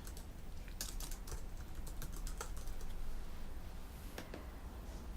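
Computer keyboard typing with irregular bursts of quick key clicks, fairly close and steady, over a faint background hiss with no voices.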